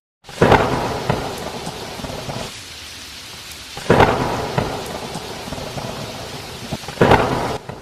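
Steady heavy rain pours throughout while loud thunder cracks and rumbles three times, each clap booming close before fading back into the downpour.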